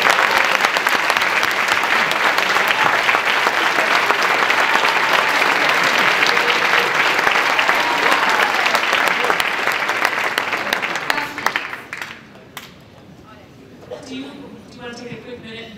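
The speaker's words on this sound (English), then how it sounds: "Let's give them a round of applause" Loud, dense applause from a high school audience fills about eleven seconds, then tapers off, leaving scattered claps and a voice speaking.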